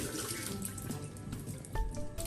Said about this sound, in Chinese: 削完了皮再洗一洗。